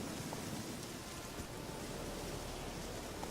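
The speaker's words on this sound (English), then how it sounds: "It's early morning and it's raining apparently" Steady rain in The Witcher 3 game world at early morning, a dense, even hiss of falling water throughout, moderately quiet and unbroken, without talk.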